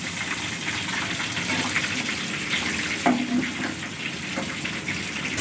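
Food fries in a kadai with a dense, steady hiss close by, with a short clatter partway through and no talking.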